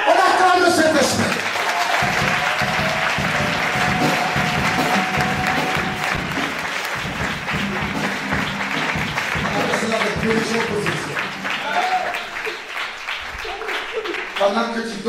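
Church congregation applauding and cheering together at a lively worship gathering, a loud, dense, sustained burst of clapping that fills the whole stretch with voices mixed in.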